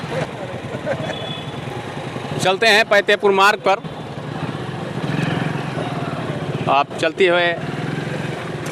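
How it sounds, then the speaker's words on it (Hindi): Motorcycle riding along the badly broken Paiteypur road, its mid-pitched engine droning steadily close by, partly under someone talking over the ride. "अपने बाइक पर बैठकर हम चलते हैं"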